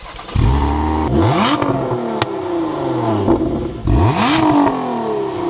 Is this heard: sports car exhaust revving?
yes